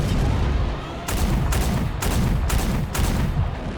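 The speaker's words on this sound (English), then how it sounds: "That's a catapult pilot's worst nightmare, is just those LRMs cooking off" LRM missile ammunition cooking off inside a catapult mech in a BattleTech match: a dense, loud barrage of explosions with rapid crackling bursts and several sharp booms in quick succession.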